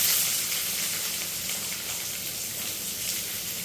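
Urad dal hitting hot oil in a pan while tempering for a home-style tomato chutney, a steady bright sizzle and crackle close up, continuous with no talking.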